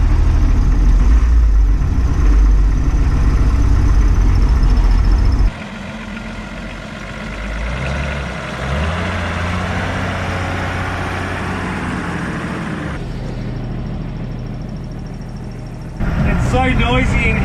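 An old Toyota Land Cruiser HJ45 engine drones loudly from inside the cabin while driving, with a heavy low rumble that shifts in pitch as the engine note changes and drops in level partway through.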